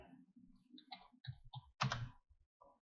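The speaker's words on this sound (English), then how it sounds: "you're going to type H or hatch" A short burst of key presses on a computer keyboard while entering an AutoCAD hatch command, quick irregular clicks close by, ending in a louder press like the Enter key, with no talk.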